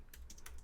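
Rapid keystrokes on a computer keyboard entering an npm install command, a handful of crisp clicks in quick bursts, close and fairly quiet with no talking.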